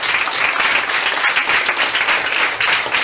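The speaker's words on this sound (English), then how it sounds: "So I want to ask you to give an applause to them." Steady, fairly loud applause from a group at an orphanage visit in Pucallpa, continuous and dense throughout without pauses.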